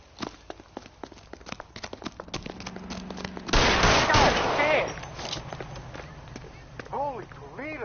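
Gunfire in the crime video game L.A. Noire: a run of sharp shots and impacts amid shouted voices, followed by a loud burst of noise lasting over a second, then quieter background with a brief voice.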